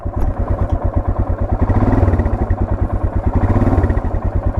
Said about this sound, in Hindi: तो अभी आपने बाइक स्टार्ट कर ली है।